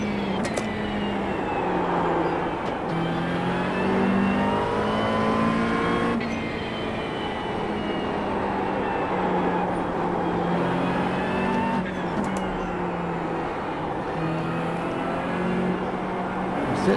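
A McLaren 720S GT3 race car engine in iRacing at The Bend GT Circuit, loud and continuous, its pitch rising through the revs and dropping sharply at gear changes several times.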